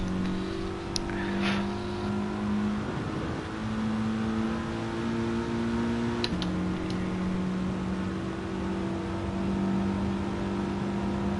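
Race car engines in Gran Turismo Sport droning steadily with sustained tonal whine and occasional pitch shifts, moderately loud and continuous over several seconds.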